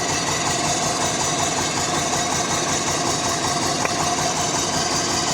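A Lifan 520 engine idles with one ignition coil pulled, so a cylinder is dead; it holds a steady, close, loud rumbling idle with an uneven, slightly lumpy pulse and one small tick partway through.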